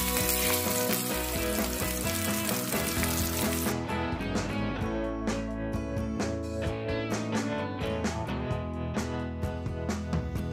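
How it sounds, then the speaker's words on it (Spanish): Beef sears in a tagine pot with cinnamon and a little sugar, giving a loud, steady sizzle and crackle heard close up, continuous throughout with no voices. "Vamos a ir dándole vueltas a la carne para que quede bien sellada por todos los lados."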